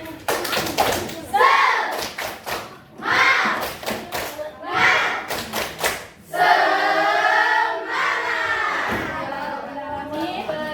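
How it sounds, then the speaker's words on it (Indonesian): An elementary school class performs a rhythmic spirit clap, sharp patterned bursts of clapping and thumps alternating with children chanting together, loud and close in a classroom. "Oke, semuanya tepuk semangat"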